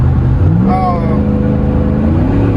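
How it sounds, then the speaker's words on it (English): A Chevy Tahoe SUV engine rumbles steadily at close range, with a throaty aftermarket exhaust tone that rises briefly, while people talk over it. "I just like the sound of that exhaust"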